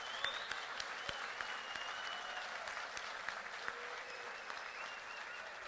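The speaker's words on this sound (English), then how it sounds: "yeah, round of applause." A hall full of first-time hackers gets steady, sustained applause from the audience at a hackathon welcome, dense clapping filling the room evenly from start to finish with faint crowd murmur beneath.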